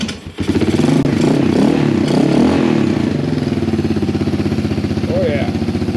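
Engine of a Yamaha YTM225DX three-wheeler running steadily after starting, a loud, close, rough idle with a rapid clattering pulse throughout, voices talking over it.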